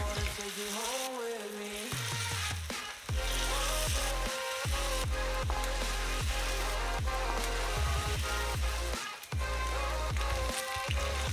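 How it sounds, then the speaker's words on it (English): Marinated cauliflower frying in hot oil in a fry pan gives a steady, close sizzle with crackling pops and occasional stirring clatter, continuous from start to finish with no talking. "Marinate the cauliflower properly and simply fry it."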